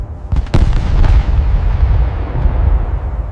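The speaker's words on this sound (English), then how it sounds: "Before dawn, German artillery opened fire across the Allied front." German artillery opens fire before dawn across a forested Allied front in December 1944: several heavy booming explosions hit in quick succession near the start, followed by a sustained low rumbling roar of continued shelling, loud and close, without voices.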